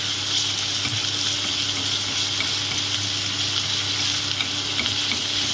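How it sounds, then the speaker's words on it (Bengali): Garlic fries in oil in a pan, a loud, steady, dense sizzle that runs throughout without any talk. "মাঝখানে একটু ফাঁক করলাম, করে এর মধ্যে রসুন দিয়ে দিচ্ছি"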